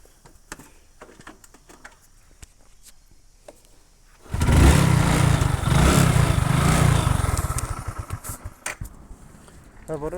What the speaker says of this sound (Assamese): আজি অলপ মানে বাইকখন এতিয়া ষ্টাৰ্ট কৰি ল'ম বাৰু।